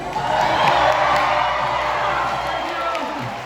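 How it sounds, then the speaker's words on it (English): A crowd at an outdoor dog agility high-jump show at Dollywood's Summer Celebration cheers loudly, a swelling roar of whoops and children's shouts that peaks early then tapers over a few seconds. "I was hoping you could cheer twice as loud on this round"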